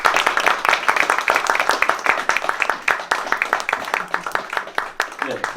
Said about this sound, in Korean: 박수 좀 환영해주세요